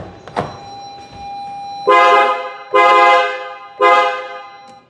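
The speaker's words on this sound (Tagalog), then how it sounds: "we upgrade the horn to PIAA superior bass horn and sports horn" A PIAA superior bass horn and sports horn fitted to a Toyota GR Land Cruiser 300 sound three loud, close blasts, each lasting about half a second and evenly spaced, after a brief quieter toot at the start.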